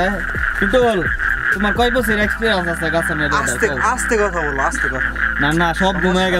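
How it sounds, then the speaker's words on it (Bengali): Frogs croak at night near date palms during winter sap collection, a busy chorus of bending, honking calls going on nonstop while people speak in hushed voices over it. "এই যে ব্যাঙের আওয়াজ হইতাছে"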